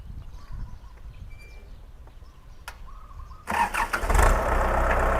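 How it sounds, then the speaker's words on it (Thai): After quiet outdoor background with faint birdsong, the diesel engine of a Kubota L4508Di tractor cranks and fires up, settling into a loud, rough rumble nearby. "เดี๋ยวไปฟังเสียงเครื่องกันเลยครับ"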